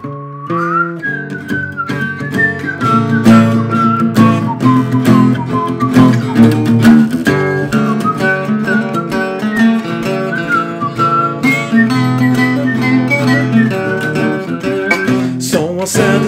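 A person whistles a melody in the key of A during a livestream, a steady sustained tune over accompanying instrumental music, clear and prominent throughout.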